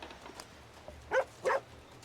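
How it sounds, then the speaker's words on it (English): Two short, muffled dog barks sound close together at moderate volume over a quiet background, with faint noises before them. "Whoa, the dog."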